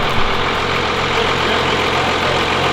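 A 12V Cummins diesel truck engine fitted with a Stage 2 cylinder head idles with a steady, rough, close-up clatter and low rumble, running alone without any revving.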